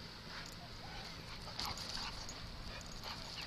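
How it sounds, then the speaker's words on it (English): A dog on a ranch gives faint, brief whimpers while a rooster attacks it, low in level against a steady outdoor background hiss. "I am videotaping this rooster who is attacking my dog."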